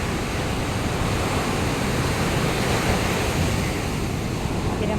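Continuous loud roar of ocean surf washing onto the shore, with heavy wind noise buffeting the microphone throughout.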